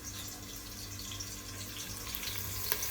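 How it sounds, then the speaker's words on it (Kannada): Pounded onion hisses in hot oil for a village-style mutton sambar, giving a continuous, even sizzle close to the pan. "ಕುಟ್ಟಿ ಇರುವಂತ ಈರುಳ್ಳಿಯನ್ನ ಒಗ್ಗರಣೆಗೆ ಹಾಕ್ತಾ ಇದ್ದೀನಿ."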